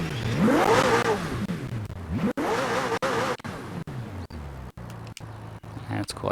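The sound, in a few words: McLaren Senna engine revving glitch in Forza Horizon 4 video game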